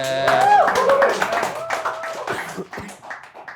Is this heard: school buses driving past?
no